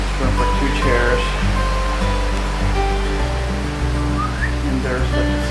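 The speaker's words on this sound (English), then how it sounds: "And there's the Pacific Ocean." Pacific Ocean waves wash far below a cruise ship balcony at sea, a broad, steady rushing of surf and wind with faint voice-like murmurs mixed in.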